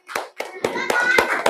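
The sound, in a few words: classroom children clapping for a group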